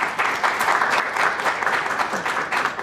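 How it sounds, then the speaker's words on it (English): An audience applauds the panelists at an outdoor jobs career panel, a dense and steady burst of clapping that fills the room for a few seconds. "if everybody could give a round of applause for our panelists"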